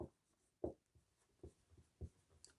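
Pen or marker writing notes on a surface during a lesson on plant transpiration, giving a few short scratchy strokes at an irregular pace, faint and close, with no voice.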